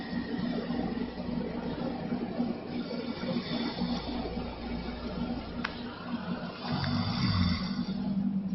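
Snoring recorded in a bedroom, faint and low under a constant hum of room noise, with slow repeated breaths and no clear talking.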